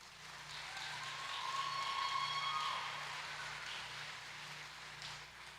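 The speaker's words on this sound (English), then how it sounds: "Please give them a round of applause." An audience applauds graduating students at a high school graduate awards ceremony, with a steady wash of clapping that swells in the middle and slowly tapers, heard from a moderate distance in a large room.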